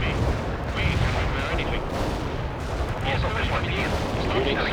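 Dense battlefield gunfire and artillery rumble roll on without pause in the strategy game World in Conflict, a thick, loud, continuous barrage with booms and rattling shots mixed with faint voices.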